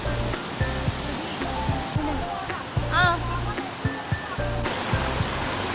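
A waterfall in Wayanad, Kerala, pours as a steady broadband roar, close and continuous, while people talk over it intermittently and a bird chirps briefly.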